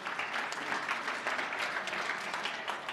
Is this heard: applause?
yes